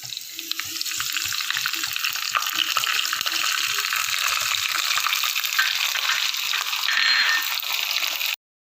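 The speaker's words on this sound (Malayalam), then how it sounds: "ഞാനിപ്പോൾ ഇതിൻ്റെ അകത്ത് കടുകും കറിവേപ്പില മാത്രമേ ഇടുന്നുള്ളൂ." Mustard seeds and curry leaves fry in hot oil for an Angamaly-style chicken curry, a steady, close, dense sizzle with faint stirring scrapes and water-like hiss, alone, ending abruptly.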